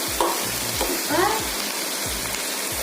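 Tomatoes cooking down in a pan for an onion chutney, a steady close sizzle with rhythmic stirring strokes thumping about twice a second, while a voice murmurs briefly underneath.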